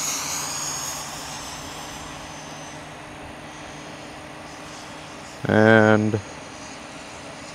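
A Freewing 90mm F16 RC jet flies over a field, its steady ducted-fan jet whine running throughout at moderate distance, with a brief spoken word near the end.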